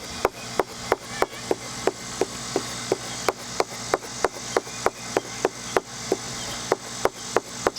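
V tool for wood carving stropped by hand on brown leather, a steady run of evenly spaced sharp ticks and soft rubbing strokes, close and alone.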